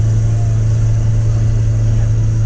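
A minibus engine in Albania drones loudly with a heavy, steady low rumble, close and continuous throughout with no pauses.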